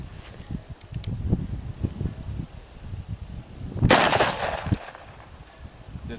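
A single loud blast from a 2.5-inch 8-shot shotgun pistol fired at close range into a melon, a sharp crack with a short burst of spatter after it, set against quiet background rustle.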